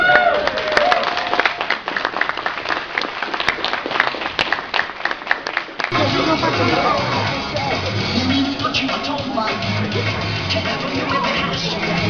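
A convention audience bursts into a round of applause, dense clapping and crowd noise filling the space, continuing steadily with mixed voices and cheering under it.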